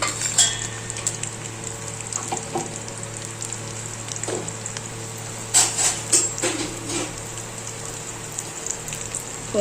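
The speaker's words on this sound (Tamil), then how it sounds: "கொஞ்சம் ஆயில் விட்டு நல்லா வறுத்துக்கலாம். கொஞ்சம் நல்லா தோல் உளுந்து நல்லா வறுபடட்டும்." Black urad dal roasts in oil in a pan with a crackling sizzle, punctuated by scattered metallic clinks and scrapes of a utensil stirring, fairly close and alone.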